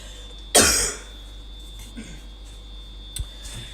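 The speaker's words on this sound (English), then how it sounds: "So, I still have a bad cough," A single sharp, loud cough bursts out, followed by quiet room noise and a faint click.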